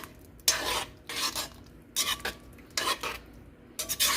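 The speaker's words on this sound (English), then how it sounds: "Just stir that in there" Tomato paste being stirred into a pot of lasagna soup over low heat: four separate bursts of scraping and clinking as the utensil drags against the pot, each loud and close, with quiet gaps between.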